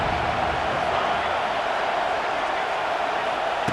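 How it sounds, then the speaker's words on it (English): Dense stadium crowd roar in EA Sports College Football 26, a steady, broad wash of massed voices that never drops, with a commentator's voice barely above it. "This crowd ready to make its presence known."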